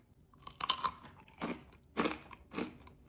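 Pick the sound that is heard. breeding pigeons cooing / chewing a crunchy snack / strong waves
chewing a crunchy snack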